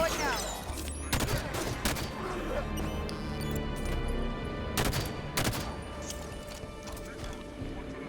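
Plasma Pistol shots and other gunfire in the Halo 5: Guardians video game, a burst of sharp repeated blasts near the start followed by scattered loud shots and clatter over a busy game background.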